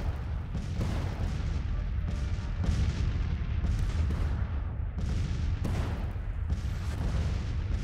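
Cannon and artillery fire from Grand Tactician: The Civil War, a steady dense rumble of booms and volleys with overlapping battle noise filling the whole stretch, loud and continuous with no clear gaps.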